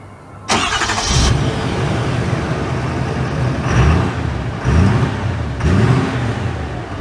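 A 2023 Ford F-450 XLT 4x4 pickup with a high-output Power Stroke diesel starts up and pulls away, its engine note loud and steady, rising in a few distinct surges as it accelerates.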